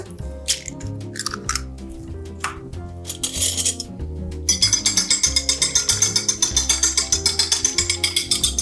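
Two eggs cracked into a flat dish: a few sharp clinks and taps against the dish come first, then a close, fast, steady run of rhythmic clinking strokes against it.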